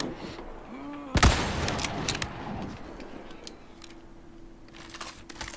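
A gunshot in the Resident Evil 4 Remake video game gives one sharp, loud bang, followed by scattered metallic clatter and softer game sounds.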